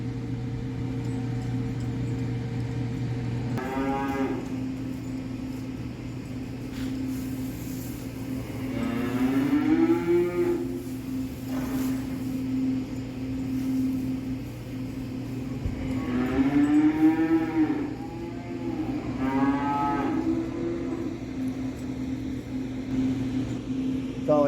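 Cattle mooing in a barn, several long drawn-out moos rising and falling over a steady low mechanical hum, fairly close and loud.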